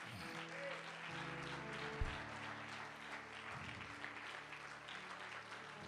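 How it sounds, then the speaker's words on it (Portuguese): A church congregation applauds in praise during a sermon, faint, diffuse clapping heard at a distance under sustained organ-like tones. "Dê um aplauso ao Senhor Jesus por sua palavra"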